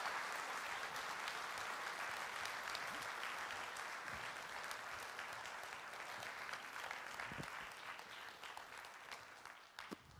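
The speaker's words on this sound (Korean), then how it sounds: "응원의 격려의 박수 부탁드리겠습니다." A church congregation in a Sunday worship service claps in sustained, dense applause of steady loudness for about ten seconds, easing off slightly toward the end.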